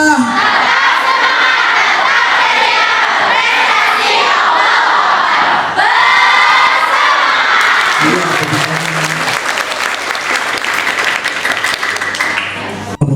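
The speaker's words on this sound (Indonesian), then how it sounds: "sebelumnya kita teriakkan semangat Darul Inayah" A crowd of children at the Darul Inayah boarding school shouts its spirited cheer in loud, rhythmic unison bursts, followed by applause and scattered cheering as voices rise and fall together.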